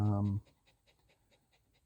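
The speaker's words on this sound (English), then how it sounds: "Mate's got lots of dogs here" Dogs panting in short, rhythmic breaths, faint and steady, just after a brief burst of loud voice at the start.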